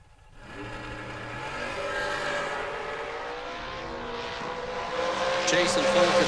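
Two drag racing cars, including a dragster, roar down the strip in a loud, steadily building engine howl, while an announcer talks over the noise.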